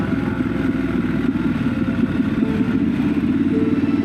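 A motorcycle rides along a smooth road through the Elan Valley in Wales, its engine a steady, close mid-pitched drone with a constant rush of wind and no pauses.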